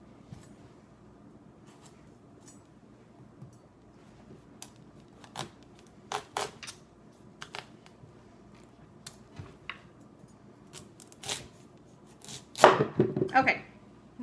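A knife works through a tough spaghetti squash, producing scattered clicks and taps that build into a louder cluster of crunching cuts near the end, close up in a quiet kitchen.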